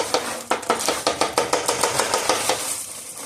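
A spatula repeatedly scrapes and stirs a sticky strawberry lemon rice cereal treat mixture in a pot, with regular sharp strokes at a brisk rhythm, close and fairly loud.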